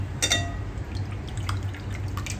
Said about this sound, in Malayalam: ഇനി നന്നായിട്ടൊന്ന് നമുക്ക് ഇതിൽ നിന്ന് പിഴിഞ്ഞിട്ട് വേറൊരു ബൗളിലേക്ക് ഇട്ട് കൊടുക്കേ.